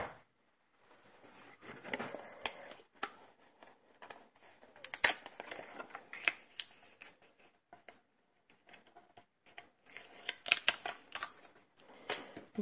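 Paper is cut out into a rectangle for a Christmas sliding wish card with a punch or craft cutter, heard as faint, close, intermittent scratchy snips and crisp paper rustles with quiet gaps between them.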